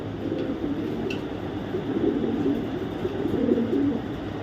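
Racing pigeons coo in soft, low rolling calls, close and fairly steady under a constant background hum, with a faint high chirp early on.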